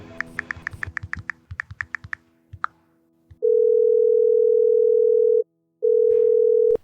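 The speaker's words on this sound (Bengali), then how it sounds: "কিন্তু অবশেষে ভাবলো মনামির খবর নিতে ও ফোন করবে" A run of quick keypad beeps and taps, then a loud steady telephone tone that pauses briefly and resumes.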